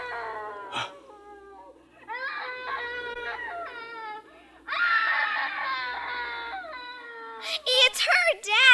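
A woman screams in a drama, a series of high, strained, wailing cries rising and breaking, loud and close, with a short gap early and growing frantic toward the end.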